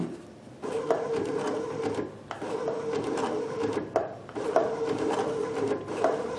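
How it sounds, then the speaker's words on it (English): A Babylock Sashiko sewing machine stitches in steady mechanical bursts, each run of rapid clattering lasting a second or two before a brief pause, close and fairly loud with no talking. "this is doing a stitch at a time"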